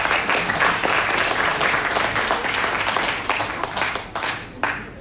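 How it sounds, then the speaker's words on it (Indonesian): Attendees at a union work meeting give a sustained round of applause, many hands clapping loudly before gradually thinning toward the end. "Tepuk tangan."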